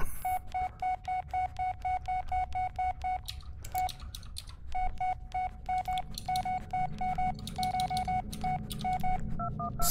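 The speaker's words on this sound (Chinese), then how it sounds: "打电话给警长" Rapid telephone keypad dialing tones from the Blair Witch video game, a quick run of short evenly spaced beeps with brief pauses between bursts, close and clear against a faint background.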